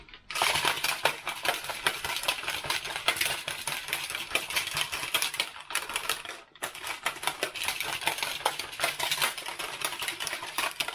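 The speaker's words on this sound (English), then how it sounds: "Do we go with the blender?" A blender whirs loud and steady as it mixes a Ghost Burn drink, with one brief stop and restart partway through.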